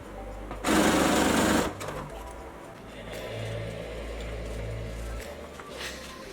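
A sewing machine stitches the bodice pieces of a half-scale floral-print bubble ballgown in one loud, steady burst of about a second, then falls quiet to a low room hum.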